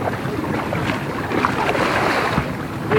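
A RIB boat motoring at sea, its engine a steady broadband rumble blended with rushing water and wind noise, loud and continuous throughout with no voices.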